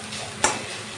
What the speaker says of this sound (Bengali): ভাজাটা প্রায় হয়ে এসছে